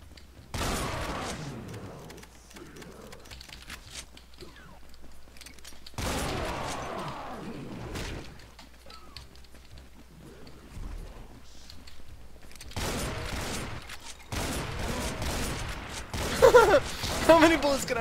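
Gunfire in the Doom mod Project Brutality comes in several separate bursts of rapid shots, some loud and dense and others fainter, with quieter gaps and a voice talking between them.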